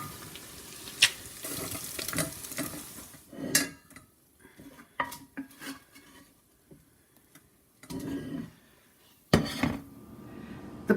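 Browned bacon bits being strained in a kitchen, with clattering pans and utensils, scraping and a splash of running water in irregular bursts, fairly close.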